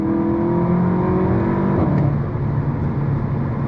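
A Seat Leon Cupra 280 engine pulls hard toward the red line, loud and close, its pitch climbing steadily before a quick gear change drops the note and it keeps building.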